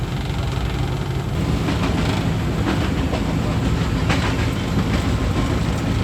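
A Pakistan Railways Green Line passenger train running from Rawalpindi to Lahore rumbles past with a dense, steady roar and rhythmic clickety-clack of wheels on the rails, loud and close throughout.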